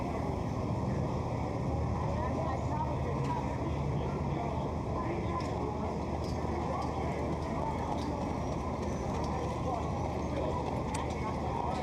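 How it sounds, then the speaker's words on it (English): Horses' hooves clip-clop on a county fair harness racing track in 2021, a faint, continuous patter of footfalls under a steady outdoor hum and a commentator talking. "We've got all the horses, I believe, out on the track now."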